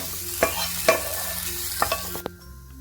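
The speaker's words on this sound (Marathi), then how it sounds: "आता आपण गरम मसाले पण हे थोडे थोडे भाजून घेऊया" Garam masala spices, including cinnamon and cardamom, dry-roast in a pan for Kolhapuri misal, giving several sharp scraping stirs and clicks over a low, steady background hum, with no talking.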